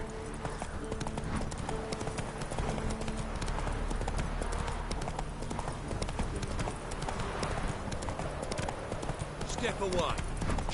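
Roach, a horse in The Witcher 3, trots with rapid rhythmic hoof clip-clops on hard ground, steady and close, while game characters talk over the hoofbeats and a faint whinny surfaces near the end.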